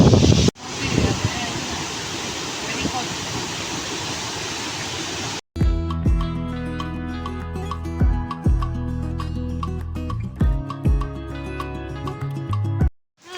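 Amboli Falls in Maharashtra, swollen by the monsoon, gives a steady, close roar of rushing water mixed with wind buffeting for about five seconds, then cuts abruptly to music.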